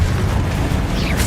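A fiery Confringo spell explosion in Hogwarts Legacy erupts as a single dense, roaring blast that fills the moment with a sustained rumbling burst, loud and close.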